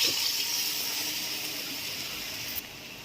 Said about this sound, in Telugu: కారం వేగింది కదా, ఈ టైంలో నీళ్ళు వేసేయాలి.